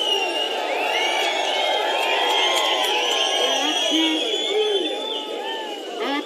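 A large crowd at a political road show rally in Hoskote cheers and whistles continuously, a dense roaring mass of voices with shrill whistles layered on top.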